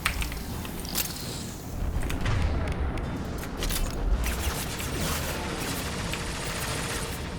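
Concussive grenade attack in the video game Mass Effect 2, heard as a dense burst of blast and gunfire-like crackle that swells and holds at a steady loud level, with a low rumble beneath.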